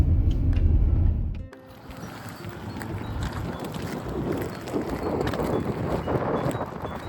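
Cold wind gusts in Canada rumble loudly against the microphone at first, then a steadier airy rush of wind continues with fluctuating intensity.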